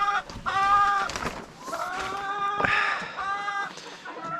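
Chickens in a coop cluck and squawk close by in repeated loud, drawn-out calls, several voices overlapping across the stretch.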